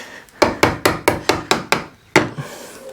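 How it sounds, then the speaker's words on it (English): A cheap chisel works the wood of a shed door, giving about eight sharp, evenly spaced woody knocks close by, with a short pause before a final louder strike and a softer tail. "Unfortunately, chisels aren't sharp enough to be able to shave it like that."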